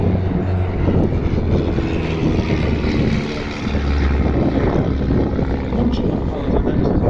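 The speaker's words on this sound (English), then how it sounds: "Two aircraft heading straight in towards us for a break." Two vintage Chipmunk aircraft fly in together toward the crowd at an airshow at East Kirkby, their piston engines a steady, loud drone with wind buffeting throughout.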